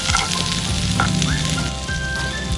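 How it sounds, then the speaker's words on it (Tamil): Butter hitting hot oil in a pan sizzles and fries steadily and close by, a constant crackling hiss with a few faint clinks, and no voices. "இப்போ எண்ணெய் நல்லா சூடாயிடுச்சு, அதனால் நாம் இப்போ பட்டர் ஆட் பண்ணிக்கலாம்."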